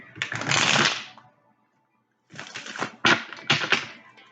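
Two bursts of a deck of cards being shuffled, a long riffle followed by a pause, then several quick shuffling sweeps and snaps, close and fairly loud.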